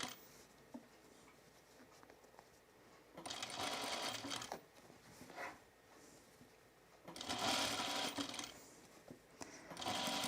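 Sewing machine stitching fabric for a top with tucks, running in two sustained whirring bursts with short ones between, close and clear over a quiet background.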